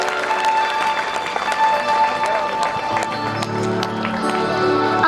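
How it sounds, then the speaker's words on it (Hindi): Audience clapping to welcome a guest at a Bhagavat Katha religious gathering, sustained crowd applause at moderate distance with some background voices mixed in. "सभी ताली बजाकर उनका स्वागत करें।"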